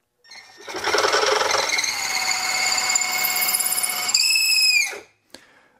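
A drill bores a hole in a plane-adjusting hammer, one sustained loud whining run of about four seconds that rises in pitch as the cutter finishes, then stops with a brief clatter.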